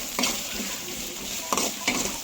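Onions and green chillies fry in a pan while being stirred, a soft sizzle broken by several quick scraping, clattering strokes of the spoon against the pan.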